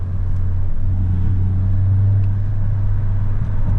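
Steady low engine rumble from a stock Volkswagen MK5 GTI with resonator delete driving at night, a constant drone heard from inside the car with no talk.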